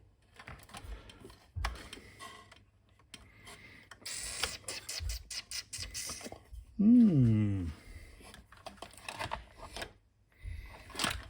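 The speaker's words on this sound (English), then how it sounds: "So I need to unscrew those to get this back off." Screws come out of the power supply of an IBM Portable PC Model 5155: near, intermittent scraping and rasping of a screwdriver on metal, with small ticks, brief pauses and a short squeaky whine partway through.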